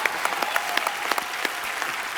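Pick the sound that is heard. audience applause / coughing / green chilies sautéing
audience applause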